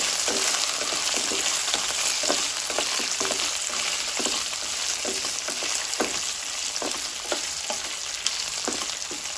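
Onion and potato pieces sizzle in hot oil in a home kitchen, with a continuous hiss and regular scraping strokes as the pan is stirred, all close and with no talking.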